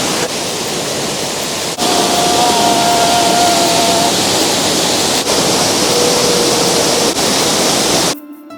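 Dharapalli waterfall near Prathipadu in Kakinada district, Andhra Pradesh, roars as a steady, loud broadband rush of falling water throughout, with a few faint tones in the first half, before cutting off abruptly near the end.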